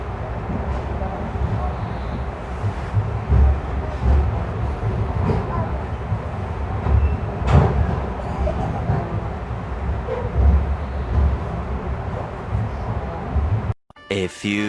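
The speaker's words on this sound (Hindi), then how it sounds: "चलिए मैं आपको दिखाता हूँ इस ट्रेन का यहाँ से डिपार्चर।" The Telangana Express pulling out of Secunderabad station, a steady low rumble and rattle of rolling rail cars that continues throughout, with a brief disturbance near the end.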